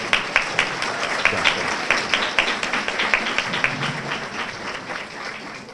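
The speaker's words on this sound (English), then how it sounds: "let's give our graduates a round of an applause" A university department audience applauds graduates of mathematics, computer science and physics at a spring ceremony, a steady wash of many hands clapping with sharper individual claps standing out throughout.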